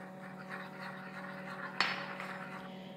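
Coffee tipped into melted chocolate in a pot, heard as faint soft pouring with one sharp clink of a spoon against the pot near the middle, over a steady low kitchen hum.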